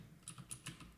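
Keys on a computer keyboard pressed in a quick run of four or five close, crisp clicks while someone types a terminal command, alone over faint room hum.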